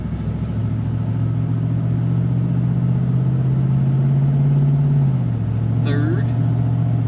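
Engine of a car fitted with a swapped GM 6L90 six-speed automatic transmission, running steadily with a low drone, then dropping in pitch around the five-second mark as it shifts gears; a voice speaks briefly near the end.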